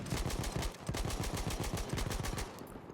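Rapid, sustained light machine gun fire in the Battlefield 1 video game, a dense rattling burst of evenly spaced shots lasting over two seconds before cutting off.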